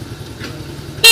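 A prize-winning motorcycle at a local event in Villa Ángela gives a single loud, close horn blast that cuts in abruptly at the end, following low, steady outdoor ambience.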